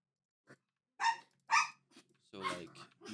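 Dogs barking in Hardcore Minecraft, a few separate barks and yips coming in bursts, fairly close and alone with no talk over them.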